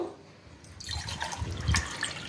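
Water trickles and splashes as it is poured into a pressure cooker holding mutton trotters for a Telangana-style goat leg soup, quiet at first, then a steady close pour with a few brighter splashes, and no talking.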